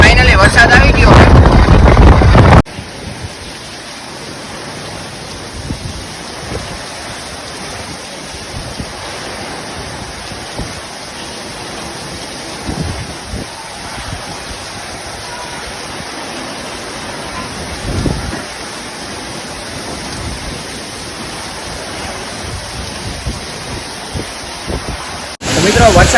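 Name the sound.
heavy rain falling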